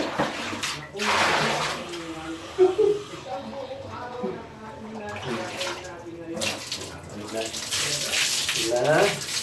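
Water runs from a tap while a pet dog is bathed, a steady splashing stream close by under ongoing talk from a person.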